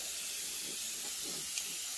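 A Paasche VL double action airbrush sprays paint in a steady, even hiss of air, close and continuous for the whole moment, with no voices.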